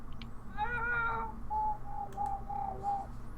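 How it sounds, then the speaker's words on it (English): A cat meows repeatedly indoors, a string of five or six short, fairly loud cries spaced about half a second apart in an otherwise quiet room. "Cat's going crazy."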